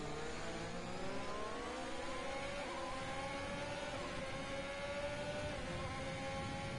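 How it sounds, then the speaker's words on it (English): A Formula 1 race car in the Codemasters F1 video game at the Chinese Grand Prix downshifts under braking, its engine pitch dropping and climbing in steady harmonic sweeps at a fairly quiet, constant level, without talk. "You can even hear that engine braking there from Beard TV, using the downshift to slow the car even faster."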